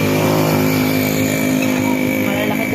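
A motorcycle engine running loud and close, a steady buzzing drone with a strong harmonic whine and slight revving, filling the whole stretch without a break.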